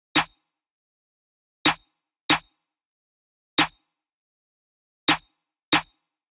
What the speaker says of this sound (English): I was happy with how the snare pattern sounded